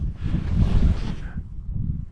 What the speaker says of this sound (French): J'en entends que le vent et encore.